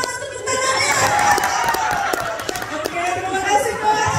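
Audience at a crowded event cheers and claps loudly and continuously, a dense roar of voices and applause with scattered shouts, a voice calling out over the crowd.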